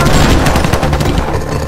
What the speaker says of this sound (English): I swear, I just heard gunshots.